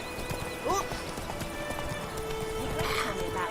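Roach, the horse in The Witcher 3, clip-clops along in a steady hoofbeat rhythm with a brief whinny-like call, set against ambient game sound.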